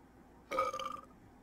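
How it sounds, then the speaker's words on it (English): A Sim in The Sims lets out a single short belch, about half a second long, faint and alone. "He's gotta belch"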